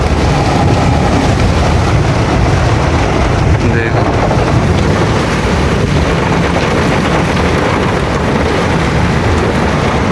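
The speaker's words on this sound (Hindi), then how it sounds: "कितनी तेज़ बारिश आ रही है ये" Heavy rain falls in a loud, constant roar of rushing water and wind noise, broken only by a brief spoken word, filling the whole scene.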